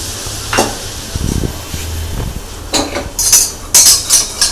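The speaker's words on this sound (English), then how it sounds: "Once the butter is melted, add flour into it" Flour goes into melted butter in a pan for a béchamel roux, bringing a soft sizzle, then a few close scrapes and clinks of a utensil against the pan, with no talk.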